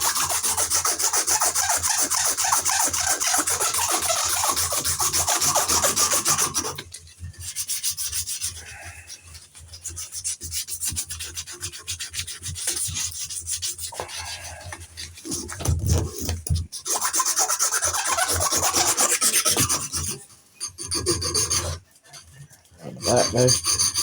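Close, steady rasping of 400 grit sandpaper worked back and forth over the wooden handle of a hidden tang knife, the strokes pausing briefly twice before the rubbing resumes.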